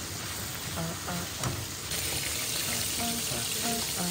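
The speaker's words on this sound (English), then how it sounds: "I'm gonna start frying the chicken." Steady crackling sizzle of chicken frying in hot oil, close and continuous, with a few faint clinks mixed in.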